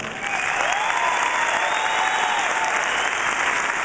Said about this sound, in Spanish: Un aplauso, que se oiga el aplauso.